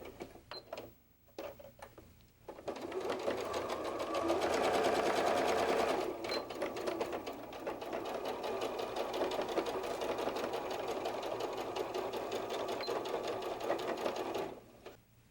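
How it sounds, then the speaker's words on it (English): A sewing machine stitches the fabric seams of a fox softie, starting after a few short bursts and then running in a steady close whirring rattle for about twelve seconds before stopping. "And then I'm going to sew from just above the tail all the way down to the bottom."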